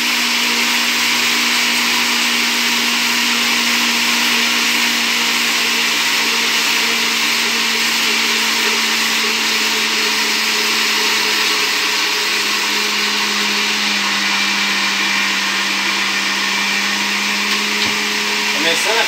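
A blender whirs steadily and loudly, close up, emulsifying homemade mayonnaise as olive oil is poured in, its motor drone holding nearly constant with a slight shift in pitch toward the end.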